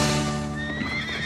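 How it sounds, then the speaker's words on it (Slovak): A young horse lets out a long, loud whinny close by, its pitched neigh wavering and trailing off over about a second. "Krásny kôň."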